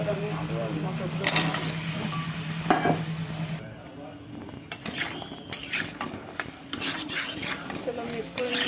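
A spoon stirs potatoes and peas into fried spices in a pan, with metallic scraping and clinking over a steady sizzle. A voice talks during the first part.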